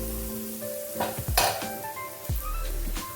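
Nendran banana sautéing in a pan for a Nellai-style sweet, a close crackling sizzle over a low steady hum, broken by a few sharp scrapes and clinks of a spoon against the pan.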